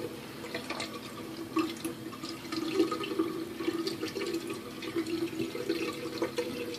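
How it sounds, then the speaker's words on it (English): Tap water running into a sink during a shaving session, a steady trickling stream with small splashy drips, continuous and moderately faint with no talk. "Sorry about the water running."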